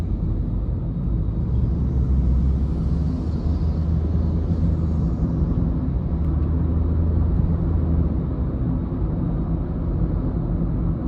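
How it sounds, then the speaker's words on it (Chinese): Inside a 2017 Honda Jazz 1.5 E on the move, a steady, dense low rumble of tire and road noise fills the cabin without letup. "轮胎的声音，还有路噪声。"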